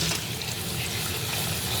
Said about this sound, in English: I'm going to run them under cold water and rinse them out.